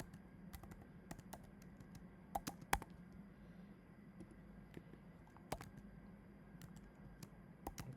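Quiet computer keyboard typing while writing code comes as scattered, soft key clicks in short irregular bursts over faint background hum, with no talking.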